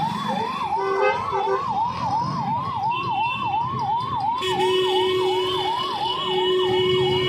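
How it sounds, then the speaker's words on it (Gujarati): An ambulance siren stuck in heavy bypass traffic, its warbling wail cycling steadily and loudly throughout, joined later by a second steady tone over a constant rumble of road noise. "એક એમ્બ્યુલન્સ ફસાઈ છે, એને કોઈ રસ્તો નથી આપતો."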